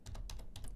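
Rapid computer keyboard keystrokes while entering dimensions in cabinet design software, about five quick, fairly soft taps in under a second.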